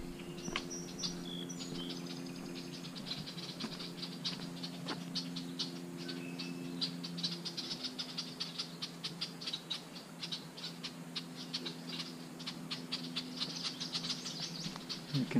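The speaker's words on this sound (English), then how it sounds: "You can tell that these birds are very happy because there's lots of bugs in here." Birds and insects along the Point Pelee National Park boardwalk, a steady mix of faint chirps and rapid ticking insect calls with a low continuous hum, moderately distant and without voices.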